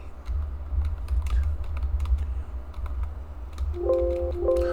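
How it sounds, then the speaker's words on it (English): Fingers type on a computer keyboard in irregular bursts of close, crisp clicks over a low room hum, with a few short tones near the end. "No, I ain't even typing in the right one."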